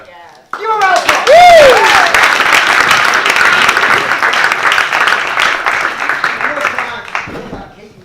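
Enthusiastic audience applause at an improv comedy night, starting with a whoop and cheers then a dense burst of clapping that gradually thins out, with a few voices calling over it.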